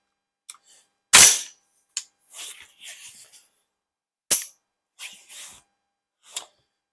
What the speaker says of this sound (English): So I'm going to go ahead and take some shots.